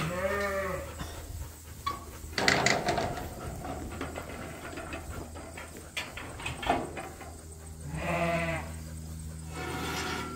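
Suffolk sheep bleating on a farm during breeding-group handling: one clear bleat right at the start and another around eight seconds in, with shuffling livestock and other background farm noise in between.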